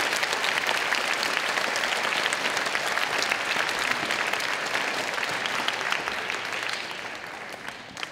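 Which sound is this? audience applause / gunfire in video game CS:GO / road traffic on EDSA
audience applause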